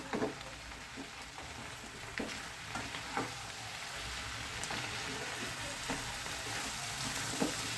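Bottle gourd and fish head mixed with ground spices in a pan, a soft continuous sizzle with scattered light scraping and stirring clicks, fairly quiet and close, no voices.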